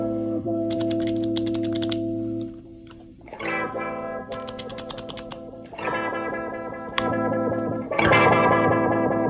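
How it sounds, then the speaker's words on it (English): Electric guitar notes run through an EHX Mod11 modulation pedal whose throb speeds up partway via tap tempo on a Walrus Audio Monument, with clicks of its footswitch between phrases. "you can hear there that I sped it up using the tap tempo on the Monument."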